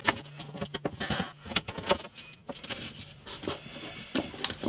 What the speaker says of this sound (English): let me just unscrew these